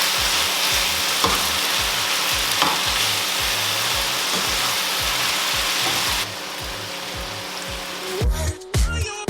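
Fried plantain sizzling loudly in a pan as it is stirred, a steady close crackle with light utensil taps that drops in level partway through before clattering stirring noises at the end.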